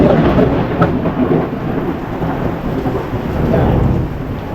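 Thunder rumbles through a heavy rainstorm, a loud, continuous roll with dense rain hiss filling the background and no voices.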